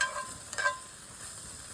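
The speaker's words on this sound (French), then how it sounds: "l'huile a pogné en feu" Meatballs sizzle in frying oil that has caught fire, a close steady crackle and hiss with a brief burst of stirring, heard alone.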